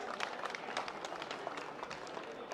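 Audience applause at a BJP Haryana party gathering, a dense steady patter of many hands clapping throughout, fairly even with no clear peaks.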